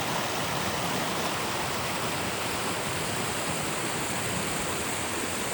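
Roaring Fork Creek rushes along a roadside bed in a steady, dense broadband wash of flowing water, continuous and fairly close, with no voices.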